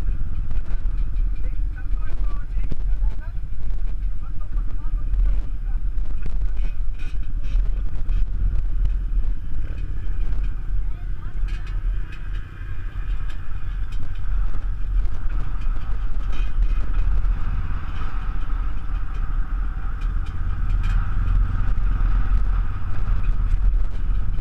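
A motorcycle engine runs continuously on a dirt trail near Gaas, Balamban, a loud steady low rumble with wind buffeting and rattling throughout.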